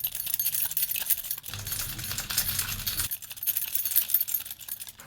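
Keys jangle and clink in two takes, first close to the microphone and then moved away and off axis so they sound more distant, with no talking.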